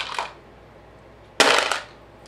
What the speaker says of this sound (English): So I'm just going to put some ammo away. And these are 45s.